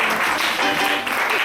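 A church congregation applauding in acclaim, a dense burst of many hands clapping together, loud and close throughout the short moment.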